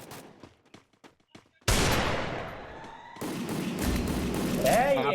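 Sniper gunfire in the mobile battle game Free Fire: a sudden loud, close shot that rings out long, then a second blast under continuing game noise, with faint clicks beforehand.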